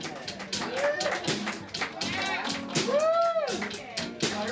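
Audience clapping and whoops at a late-night fringe festival comedy show in Boulder, mixed with loud overlapping voices and cheering throughout.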